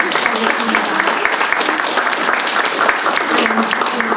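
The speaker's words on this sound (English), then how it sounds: "a huge round of applause for the children and all of our winners today." Applause for children and winners at a student tourism awards ceremony, a continuous dense patter of clapping at full volume with some voices mixed in beneath it.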